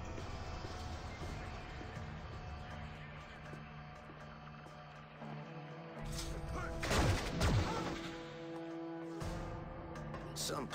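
Gunfire in the space combat game Freelancer, a burst of shots and crackling blasts rising over a steady mechanical engine drone with music in the background, moderately loud.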